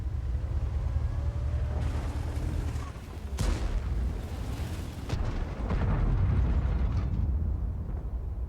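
A tank's ammo rack explodes in the World of Tanks video game, a heavy booming blast with sharp cracks over a constant low engine rumble and loud battle noise.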